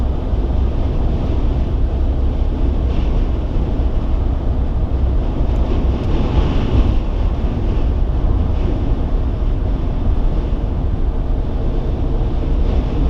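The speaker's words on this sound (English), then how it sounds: "You actually see the wind gusts on the wave on the beach." Strong wind buffets the microphone in a constant roar, with surf washing in underneath at a beach by a Viking village; no one speaks.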